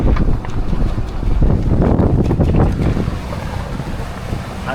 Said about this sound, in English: But the good thing about the wind is, as it picks up, we pick up boat speed